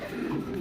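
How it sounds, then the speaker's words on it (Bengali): Soft, continuous cooing from American long-face high-flying pigeons with giraffe-like necks, kept as a breeding pair group for sale. Close, steady and low-pitched, with no voices over it. "জিরাফ গলার American high flying long face top কোয়ালিটির কবুতর"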